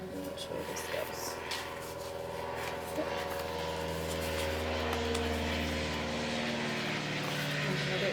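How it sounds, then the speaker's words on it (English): A propeller airplane passes overhead outdoors, a steady low drone that swells gradually louder over several seconds, with faint talk underneath. "There's another airplane going by"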